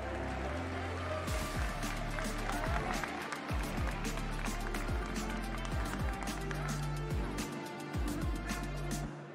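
A crowd at the EVO 2022 Mortal Kombat 11 Ultimate top eight tournament applauds loudly and steadily for several seconds, with cheering and an announcer's voice over a booming PA in a large hall.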